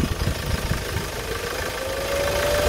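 A car engine with a turbo idles steadily during a whistle check, a continuous low rumble with a faint, thin whistle rising slowly in pitch toward the end.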